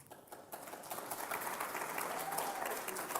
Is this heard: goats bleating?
no